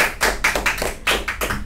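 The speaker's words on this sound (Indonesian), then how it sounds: "Tepuk tangan dulu." Hand clapping in an Indonesian podcast studio, greeting a guest who won city and provincial awards in Jakarta, 2025; a few people clap in uneven bursts, close and moderately loud, with no talk over it.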